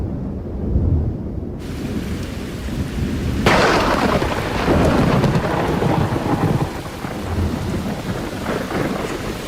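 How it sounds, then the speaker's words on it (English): Heavy rain pours over the Galapagos islands while thunder rolls through, a deep rumble building after a quieter opening and continuing loud and close over steady downpour with no voices. "Soon, there will be rain."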